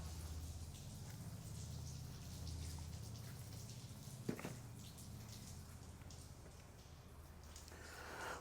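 Rain patters steadily on a car windshield, heard from inside the car, faint and continuous, with a single brief knock partway through.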